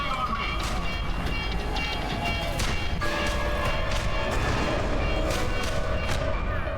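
Tram rolling along rails in the F.E.A.R. shooter game, a steady loud rumbling clatter with tonal wheel squeal and metallic clanks, continuous throughout, with a bright screech rising near the end.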